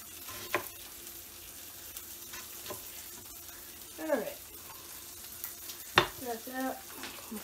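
Bacon frying in a pan makes a soft, steady sizzle underneath a few louder clattering bursts from handling, with faint voice-like sounds in the background.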